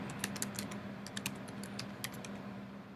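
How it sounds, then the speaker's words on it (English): A computer keyboard being typed on in a quick burst of crisp, close key clicks over a low steady hum, no one talking. "Let's type in make a website."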